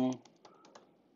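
After a brief voice at the start, a few soft, separate keystrokes tap on a computer keyboard, faint and sparse.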